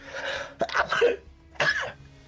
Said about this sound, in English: Sorry, perfect time for that sneeze.